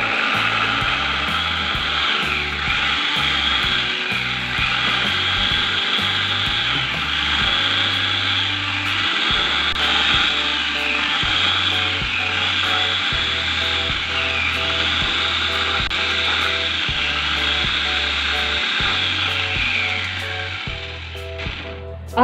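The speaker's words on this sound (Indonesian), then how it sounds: "sekarang aku mau langsung aja haluskan bumbunya" An electric grinder blends garlic, candlenuts, bird's eye chilies and vegetable oil into a spice paste for nasi goreng mawut, giving a loud, steady motor whir with rough churning that runs unbroken for about twenty seconds and stops abruptly, with no talking.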